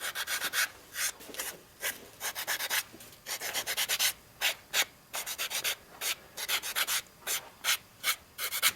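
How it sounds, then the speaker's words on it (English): Repeated sanding strokes along the edge of white cowhide leather, close and crisp, coming in short rhythmic bursts with brief pauses between them, no voices. "Sand the edge."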